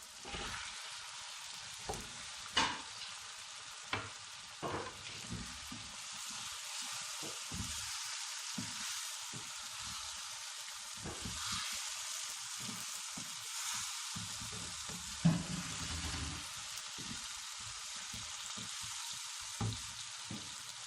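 Fish pieces for a Chinese fish soup sizzle steadily in a hot pan, with scattered clinks and scrapes of stirring breaking through the constant frying hiss; no voices.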